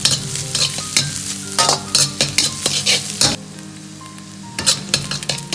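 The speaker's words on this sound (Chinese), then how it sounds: "煸炒出香味" Ingredients stir-fried in hot scallion oil in a wok sizzle steadily under repeated scraping and tossing strokes, with a brief quieter pause midway before the clatter and hiss resume.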